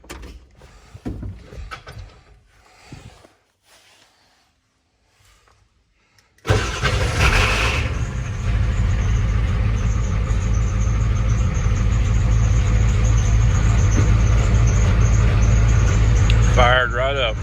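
A farm truck engine cranks and fires up after a few seconds of quiet and muffled talk, then settles into a loud, steady, rumbling idle close by.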